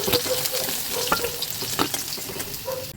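Fish pieces sizzle steadily in hot oil in a pan for an Assamese fish curry, with occasional clinks and scrapes as they are turned and stirred, loud and close.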